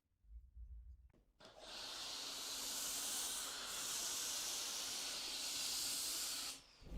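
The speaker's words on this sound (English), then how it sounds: "I just wanted to rinse it off nicely with the foam wash" SONAX Foam Giant apple-scented snow foam is sprayed onto a dirty car as a sustained, close, even hiss lasting several seconds, starting after a brief low rumble and cutting off abruptly near the end.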